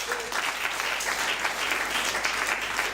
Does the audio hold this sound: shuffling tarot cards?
no